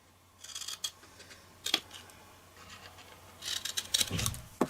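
Scissors cut paper in a V shape, close and fairly quiet, with a few separate snips and rustles followed by a longer burst of crisp cutting near the end, with no talking.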